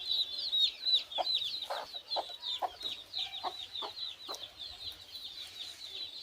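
A broody desi hen sitting on eggs clucks softly and repeatedly in short low bursts, close by, while high chirps from nearby birds or chicks run continuously over the top.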